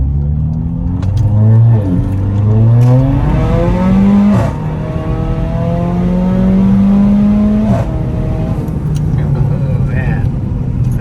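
A Mercedes-AMG CLA 45 turbo accelerates uphill in first gear, its engine rising in pitch through two strong pulls with brief dips between them, heard loud from inside the car.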